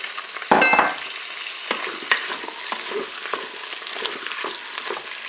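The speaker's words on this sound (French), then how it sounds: "22 minutes de fonction dorée, je vais ajouter mes champignons." Mushrooms dropped into a Cookeo multicooker on its browning setting give a loud burst of sizzling, then a steady close crackle with irregular stirring scrapes and clicks, no voices.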